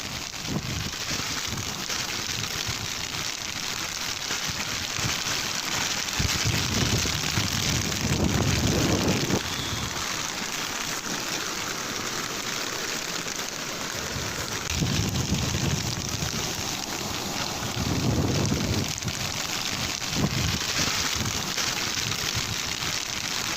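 Heavy monsoon rain pours steadily during flooding in the Warangal district, a constant broadband hiss with gusting wind buffeting the microphone in several louder surges, with no voices.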